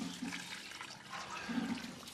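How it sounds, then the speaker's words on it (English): Water splashing and trickling as garden plants are watered, a soft uneven pouring sound that swells and eases, quiet and close with no talking. "Now, these want a little bit of water."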